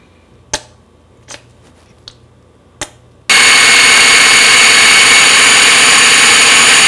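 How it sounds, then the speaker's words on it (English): Food processor blending vegan deviled egg filling with kala namak and mustard: a few sharp knocks and clicks, then the motor kicks in as a loud, steady, close whirring roar that continues unbroken. "we're going to process this until it's smooth"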